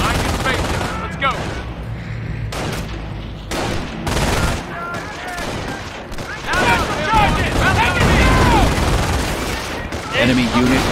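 Fierce gunfire from a World War II Normandy battle in Company of Heroes rolls through dense bursts of rifle and machine-gun fire, with booming blasts and shouting voices mixed into the loud, continuous combat.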